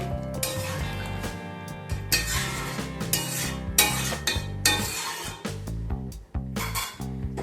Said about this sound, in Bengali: সমস্ত কিছু একবার ভালোভাবে মিশিয়ে নিচ্ছি।